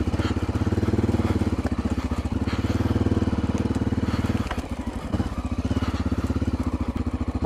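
A dual sport motorcycle riding through the woods, its engine droning loud and close with a steady pulsing chug that dips briefly midway and then picks back up, no talking.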